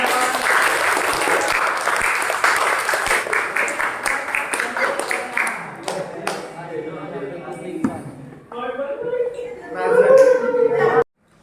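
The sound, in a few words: classroom applause for a student group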